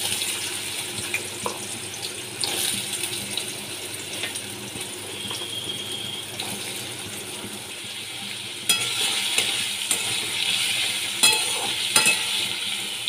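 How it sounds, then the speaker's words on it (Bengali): Small-cut potatoes fry in oil for an aloo matar dish, a steady hissing sizzle with occasional stirring clatter that swells louder toward the end, no voices. "তেলের মধ্যে আমি আলুগুলো ভেজে নিচ্ছি।"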